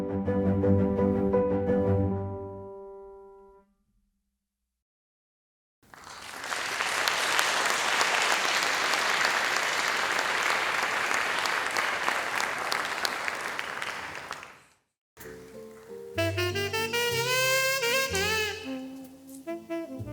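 An awards-ceremony audience for historic preservation honorees gives a full round of applause, dense clapping rising after a silent gap and holding steady for about nine seconds, framed by music before and after.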